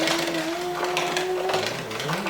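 Electric mixer churning chocolate chip cookie dough at home, a steady close whirring motor hum that stays even for the whole stretch, with faint clatter and no clear speech.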